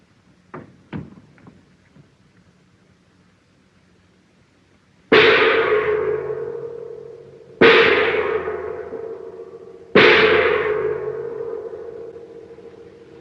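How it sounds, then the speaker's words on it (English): Three loud metallic gong strikes a few seconds apart, each blooming into a long shimmering decay, after a few faint knocks at the start; no talking. "All I got to do is to ring that gong and they come flying."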